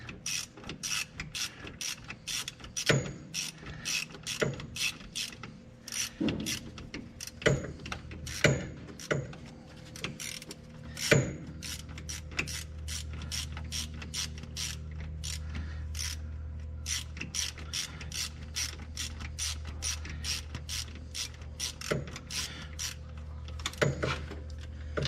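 A ratchet tightening a fastener deep inside a Yamaha YXZ during a CrawlBox install, with a long run of evenly spaced, faint metallic clicks up close, then a low mechanical hum in the background.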